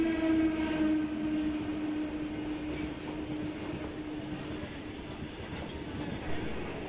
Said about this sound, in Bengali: রেলগেট পড়ে গেছে, এখন যাবে ট্রেন